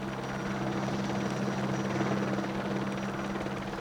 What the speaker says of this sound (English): Helicopters have gained an important role in transporting firefighters and equipment.